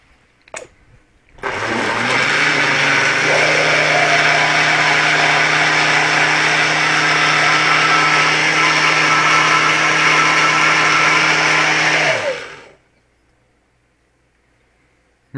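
A kitchen blender whirs steadily for about ten seconds while making a fruit smoothie, starting abruptly after a few small clicks and stopping with a falling whine into near silence.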